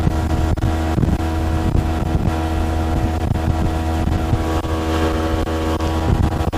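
A 2022 Mercury 60hp outboard motor on a Starcraft boat runs at about 4,800 RPM, giving a loud, steady, close engine drone with wind buffeting the microphone and no speech.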